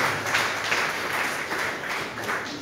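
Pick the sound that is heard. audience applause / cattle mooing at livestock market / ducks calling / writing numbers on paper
audience applause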